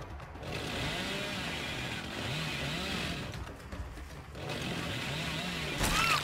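The Hillbilly's chainsaw in Dead by Daylight revs and idles with a rough, wavering engine drone that rises and falls across several seconds, loud and close, with a sharper burst near the end.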